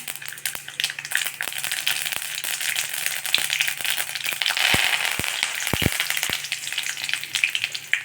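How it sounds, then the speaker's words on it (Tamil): Steady crackling and spitting of mustard seeds popping in hot oil, with sharp pops scattered throughout over a continuous sizzle, close up. "கொஞ்சம் கடுகு வெடிக்கட்டும்"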